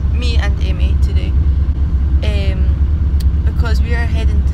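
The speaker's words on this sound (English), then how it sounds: "we are on the elementary bus" Steady low engine rumble inside a moving elementary school bus, with passengers talking over the constant drone.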